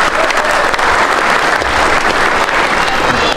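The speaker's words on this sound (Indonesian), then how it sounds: "Tepuk tangan dulu buat AMKE" An audience at a formal organizational inauguration ceremony bursts into loud, sustained applause, many hands clapping densely and evenly from start to finish.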